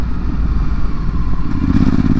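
A 2022 Ducati Hypermotard SP being ridden, its engine a loud, steady low rumble close to the microphone with wind and road noise, holding a constant pace and swelling slightly toward the end, with no talking.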